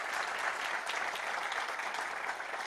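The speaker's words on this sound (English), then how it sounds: "Round of applause for them, please." Dense, steady audience applause at a Call for Code Global Challenge India kick-off event, greeting the Saaf Water team, winners of the 2021 challenge. The clapping stays continuous and fairly loud throughout, with no voices over it.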